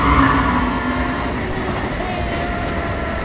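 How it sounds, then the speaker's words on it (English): An Amtrak train pulls into Secaucus station at speed, a loud, sustained rail roar with rushing wheel noise and a faint high tonal whine over it. "Oh, here comes the train."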